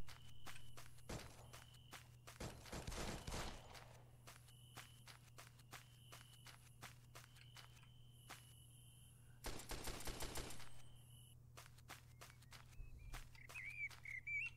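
Gunfire in the XERA Survival video game rattles in a few sharp bursts, with footsteps crunching steadily in the foreground.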